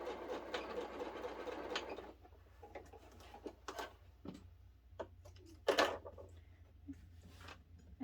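A sewing machine runs at low speed, its needle stitching in short uneven bursts with pauses between them, fairly faint and close, with no voices.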